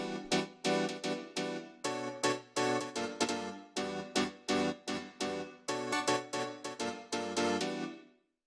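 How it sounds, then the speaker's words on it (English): Piano house chord stab at 125 BPM, an M1 piano layered with a choir sample, playing short punchy chords in a syncopated rhythm with sharp attacks and quick decays, loud and up front with no voices. "The first sound we have here is the chord stab"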